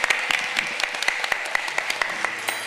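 An audience at an outdoor fair concert in Portugal gives a round of applause for a musician, with sharp individual claps standing out over a steady wash of clapping.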